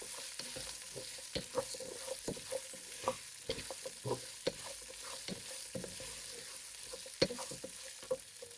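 Chopped radish and zucchini fry in a pan for a radish chutney, with irregular scraping clicks of a spoon stirring over a soft, continuous sizzle, close by and without talk.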